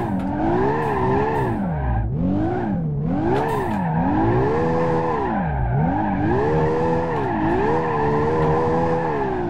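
A Toyota Supra in BeamNG.Drive drifts sideways with continuous loud tire squeal and a wavering, revving engine note rising and falling throughout, with no talk.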